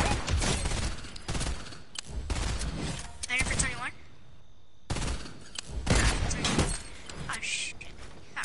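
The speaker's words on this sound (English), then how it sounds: "I was shooting at another guy, I just sniped him" Gunfire in a video game squad match: clusters of loud, dense shots in bursts with short gaps between, close and heavy, mixed with game noise.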